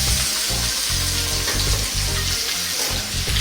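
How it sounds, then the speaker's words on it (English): Sliced onions, fresh pandan leaves, curry leaves and ginger garlic sizzle steadily in hot oil for a Sri Lankan dish, a loud close crackle with stirring scrapes through it and no talk. "let's get in our fresh pandan leaves and our curry leaves, along with the 1 cup of onion that I've sliced and the 1 tablespoon of ginger garlic"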